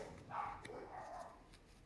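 Dogs bark excitedly at a squirrel, a few faint, distant yaps and woofs in a short burst against quiet background noise.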